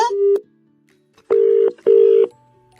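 A telephone call goes through: a short dial tone, a pause, then two even, steady ringing bursts with a brief gap between them, loud and close, with no voices.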